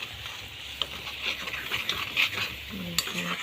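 Something is being stirred and fried in a kadai, with scraping metal spoon strokes and clinks against the pan over a low steady sizzle, close up and without talk.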